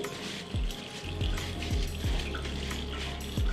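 Water runs steadily from a faucet onto hands being rinsed at a sink, a close continuous splash with several short swishes and drips as the hands move through the stream.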